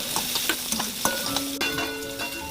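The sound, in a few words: onion sizzling in hot oil in a kadhai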